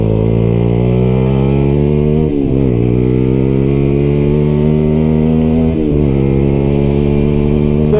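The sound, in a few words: 125cc sport motorcycle with aftermarket exhaust revving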